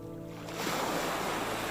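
Soft ocean surf rolls in after a quiet start, a broad steady wash of water and wind swelling up and holding as a gentle continuous roar.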